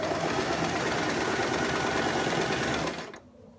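A sewing machine stitching skirt layers together runs in a rapid, steady mechanical whir, close and continuous for about three seconds before stopping abruptly into near silence.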